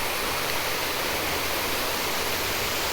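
A lake aeration fountain pours a waterfall, a loud, dense, continuous rushing roar of falling water, up close and steady with no other sounds.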